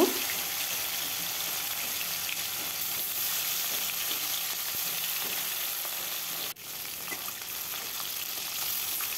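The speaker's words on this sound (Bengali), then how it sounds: "তেলটা গরম হলে মাছগুলো আমি ভেজে নেব।" Steady, even sizzling of fish frying in hot mustard oil fills the whole stretch, close and constant, with a brief dip partway through.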